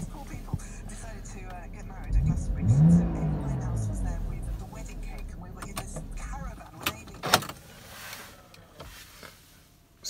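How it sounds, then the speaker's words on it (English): Electric windows on a BMW Z4 3-litre hard-top convertible whir upward for a couple of seconds after the roof closes, mixed with low cabin noise while someone talks. "Roof is now up, windows are going up."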